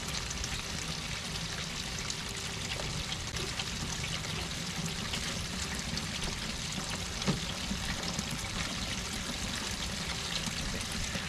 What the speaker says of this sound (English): Look how much water is pouring out.